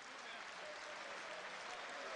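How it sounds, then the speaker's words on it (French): Spectators at a world shooting championship applaud a repeat world champion with steady, dense, moderately distant clapping that fills the whole moment without pause. "Voilà, tout le monde applaudit."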